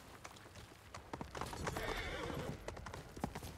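In the Ghost of Tsushima video game, a horse's hooves clip-clop in a quick, uneven run of close, crisp beats. A brief whinny and soft background ambience accompany the steps.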